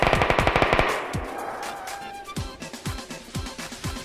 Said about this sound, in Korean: 총소리 너무 많다